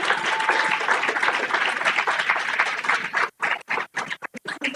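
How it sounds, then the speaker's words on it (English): An audience at an academic memorial lecture applauds a scholarship winner: dense, steady clapping for about three seconds, then thinning into a few scattered, separate claps as it dies away. "everyone could give her a round of applause"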